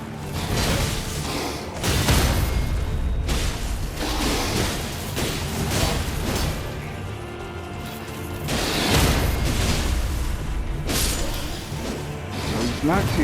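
Sacred seal incantation cast at a boss in Elden Ring, amid a dense, loud stretch of combat with repeated whooshes, crashing impacts and thuds that keep surging and easing.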